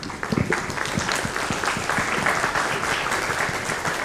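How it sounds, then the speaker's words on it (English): Audience at a conference panel on app store metrics giving a big round of applause, a dense steady clatter of many hands throughout, fairly loud and even. "I think you deserve a big round of applause."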